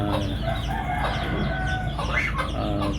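Chicks and chickens cluck and peep on a small farm, with a rooster crowing among steady busy fowl chatter, close and continuous with no talk.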